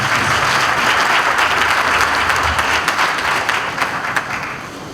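Outdoor crowd applause at a naval cadets' passing-out parade and commissioning ceremony, honoring a retired rear admiral: loud, dense clapping that holds steady, then tapers slightly toward the end.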